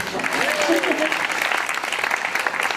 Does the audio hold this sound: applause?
yes